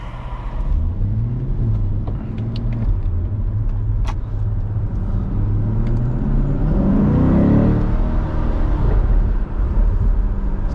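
A Chevrolet C8 Corvette Stingray coupe's engine revs while driving, rising and falling through the gears with a deep, loud, continuous rumble heard from inside the car, no talking.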